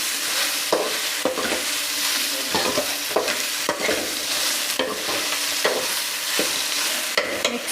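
Okra for sambar stir-fries in a pan, a bright, constant hissing sizzle punctuated by regular scraping strokes as the pieces are tossed and mixed.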